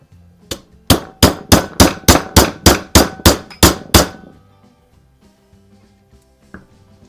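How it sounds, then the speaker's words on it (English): A brass hammer strikes a steel part of a Crosman 140 air gun about a dozen times in a steady, evenly spaced run of sharp, close metallic taps, followed by quiet with one faint knock near the end. "I always like to use a brass hammer, especially when I'm working on steel stuff like that."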